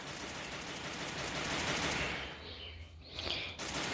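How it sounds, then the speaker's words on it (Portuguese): Rapid gunfire in the Free Fire video game, with dense automatic bursts rattling continuously and loudly throughout, and a brief dip near the end before the shooting resumes. "O cara atira no meu lado. O outro não para de atirar."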